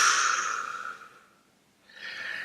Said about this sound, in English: breathe out quite forcefully for the count of 8. When you breathe out, you should actually hear your breath.